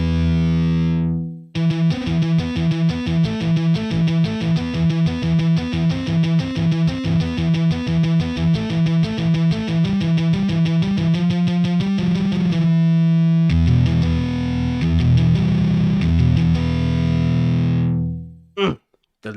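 A distorted electric guitar through an amp-simulator preset in the Cubasis music app plays a loud, sustained riff of rapid chugging notes and held chords, stopping abruptly near the end.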